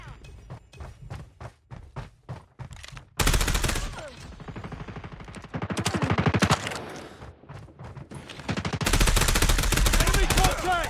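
Call of Duty Mobile multiplayer gunfire: spaced single shots at first, then loud sustained automatic bursts with heavy thumping impacts, rising and falling in dense clusters up close.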